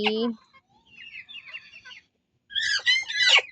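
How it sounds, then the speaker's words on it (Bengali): A brooding hen sitting on twelve eggs clucks and makes soft, drawn-out vocalizations at close range, with a quiet gap midway followed by a louder burst of clucking. "মুরগিকে কুচি বসিয়ে দিয়েছি। 12টা ডিম দিয়ে বসিয়েছি।"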